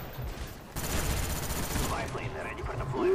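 Rapid bursts of Mac-11 submachine gun fire in the PC shooter Call of Duty: Black Ops, loud and dense for most of the stretch, with a voice talking over it.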